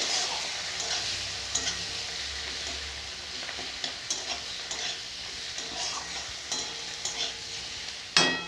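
Chopped tomato with chili powder and turmeric fries in a pan while a spoon stirs it, giving a steady sizzle with irregular scraping strokes and light metal clinks, ending in a louder knock.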